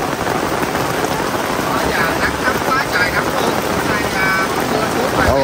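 Heavy rain pours down at the tomb of Meritorious Artist Vũ Linh, a dense, steady hiss of drops on surfaces filling every moment, with faint voices buried beneath the downpour.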